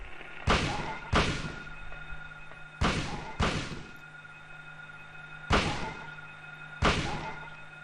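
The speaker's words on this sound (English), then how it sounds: "I am going to have to just shoot them" Six loud, sharp gunshots ring out in a video game, arriving mostly in quick pairs with pauses between them, each one cracking then fading over a low, steady hum.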